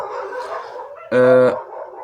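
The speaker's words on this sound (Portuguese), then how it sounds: "Ô cachorrada, para" Dogs make a short, loud, close howl lasting under half a second, with lower canine whining and restless noise before and after it.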